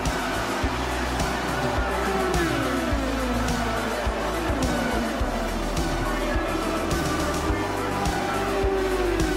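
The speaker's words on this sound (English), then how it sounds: "We'll enter the final lap of the Indianapolis 500." IndyCar race cars roar around the oval on the final lap of the Indianapolis 500, a continuous dense engine drone with rising and falling pitch as cars pass, under crowd and commentary.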